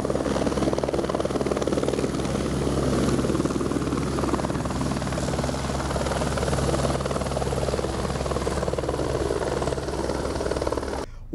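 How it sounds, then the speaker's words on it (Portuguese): A helicopter's rotor thumps and engine drone roar steadily for several seconds, loud and close, before cutting off at the end. "Adriana foi levada de helicóptero para o Hospital da Restauração, no Recife."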